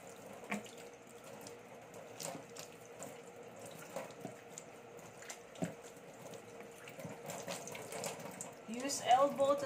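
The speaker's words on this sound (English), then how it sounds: "Then rinse hands with water." Tap water runs steadily from a faucet into a sink while hands are rinsed, a soft continuous splashing with small irregular spatters that grows a little louder near the end.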